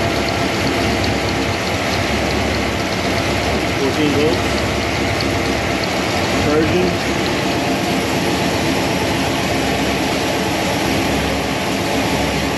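A freshly rebuilt 1965 289 V8 runs steadily during break-in, a loud, continuous close-up engine drone that never changes in pitch.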